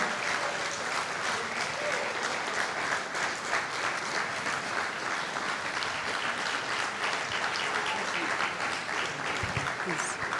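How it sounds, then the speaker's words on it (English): Steady, warm applause from a large audience at the 2017 FATE Foundation annual celebration, greeting founder Fola Adeola; dense clapping holds evenly throughout without pause. "you make that applause stronger and warmer"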